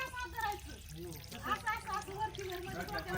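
Tap water pouring and splashing over a papaya being washed at home, a steady moderate rush of running water throughout with no clear talk.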